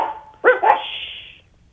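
A single sharp dog bark in two quick bursts, close and loud, trailing off into a short tonal whine over a faint background.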